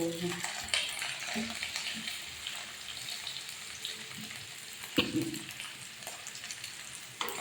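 Dried fish (tuyo) fries in a pan with oil, a dense, steady sizzle and crackle running throughout, close up, with a couple of sharper pops and spatters.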